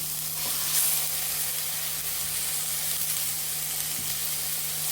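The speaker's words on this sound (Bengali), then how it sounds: "পেঁয়াজ রসুন আদা কাঁচা লঙ্কা সবই একে একে দিয়ে দিব আমরা এখন কিমাগুলো দিয়ে দিব" Minced chicken frying in a pan with onion, garlic, ginger and green chilli, a loud steady sizzle and hiss close by, with faint stirring and no talk.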